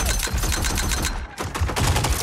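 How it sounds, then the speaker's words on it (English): Erron Black's revolvers in Mortal Kombat 11 fire in a rapid, loud string of sharp cracks, shot after shot like a semi-automatic with no reload pause, then a brief gap before the volley resumes. "Aaron Black uses revolvers, and he somehow fires them like a semi-auto and doesn't need to reload."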